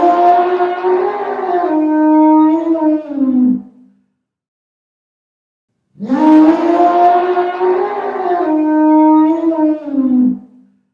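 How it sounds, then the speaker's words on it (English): An elephant trumpets twice, each call a loud, drawn-out blare of several seconds that sags in pitch at the end, separated by a stretch of silence. "Elephant."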